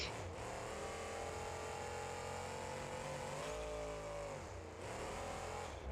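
Turbocharged monster truck engine in BeamNG.Drive revving steadily and loudly, its pitch dipping and climbing again, close and dense with no talk over it.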